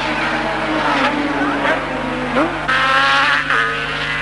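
A Suzuki racing motorcycle screams past during a 1976–77 road race, its high engine note rising and falling through gear changes, loud and close, with a commentator's voice underneath.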